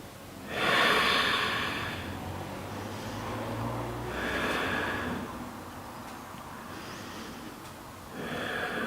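Slow, deep yoga breaths during a floor stretch come close and clear. A strong breath is followed by softer, airy inhales and exhales roughly every three to four seconds, with no talking over them.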